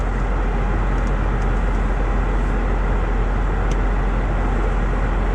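Steady broadband road roar as a car passes on a road, loud and continuous with no clear rise or fall and no talking.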